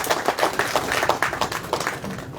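An audience at an Indian railway workers' union gathering claps vigorously, a dense, close burst of steady applause running throughout without a break.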